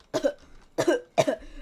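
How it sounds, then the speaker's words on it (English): Three short, close, forceful throat clears in quick succession, each a rough guttural burst with brief pauses between, no talking. "need to clear my throat."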